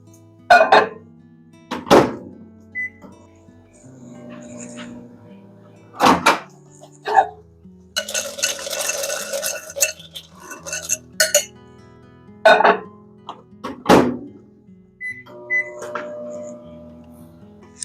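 A microwave is worked at home while something is warmed and stirred with a chopstick: door thunks, beeps and a humming run, with clinks and knocks around it.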